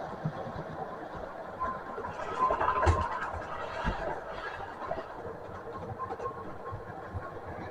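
Model trains roll steadily along a model railway track with a continuous rumbling clatter and occasional clicks, moderately close, with no talking.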